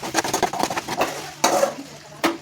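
Chicken frying in oil, a soft close sizzle broken by clattering stirs of a utensil against the pan, with a couple of sharper knocks.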